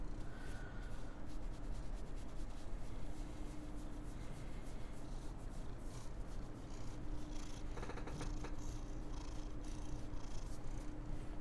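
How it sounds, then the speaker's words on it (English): A cat purrs steadily and loudly up close, a continuous low rumbling drone with faint rustling and scratching on top. "Oh my god, he's purring so loudly."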